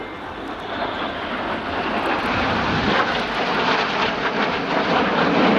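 Red Arrows RAF jets flying a corkscrew manoeuvre at an air display at Volkel, a loud sustained engine roar building slightly over several seconds with no talk.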